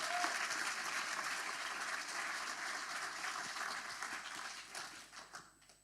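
A crowd at an Arduino tech event applauds steadily, a dense wash of clapping that gradually fades toward the end.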